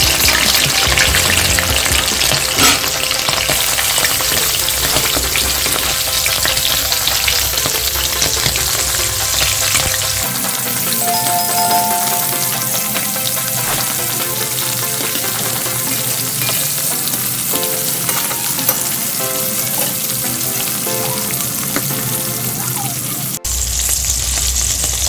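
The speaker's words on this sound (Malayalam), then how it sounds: "നമ്മൾ ഒഴിച്ച് വെച്ച എണ്ണ നന്നായിട്ട് ചൂടായിട്ടുണ്ട്. അതിലേക്ക് നമുക്ക് കുറച്ച് മീൻ പറിച്ച് നമുക്ക് ഇതിലേക്ക് ഇട്ട് കൊടുക്കാം." Dried fish sizzling and frying in hot oil in a pan, a steady loud crackle throughout with occasional stirring, the texture shifting partway as the fish settles in the oil.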